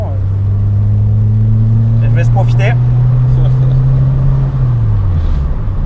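A Peugeot 205 engine holds a loud, steady low drone, then its pitch sinks as it eases off near the end. Someone speaks briefly over it.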